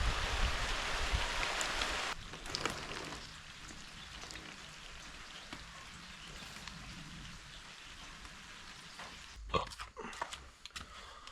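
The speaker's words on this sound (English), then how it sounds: "It's raining as fuck, but I don't really care because I want to get this thing done." Steady outdoor rain falls on a backyard project site where a solar pool cover winch is being built, loud broadband hiss for the first two seconds, then a softer continuous patter with a few nearby clatters near the end.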